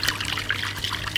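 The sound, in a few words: pouring sweet and sour sauce into marinade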